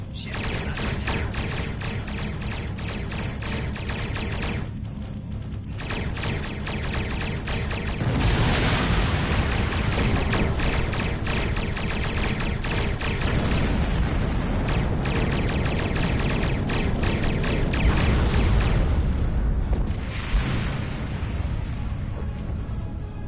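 Starship weapons fire and explosions rage in Star Trek Online combat, a relentless loud barrage of rapid shots and booming blasts that continues almost without pause.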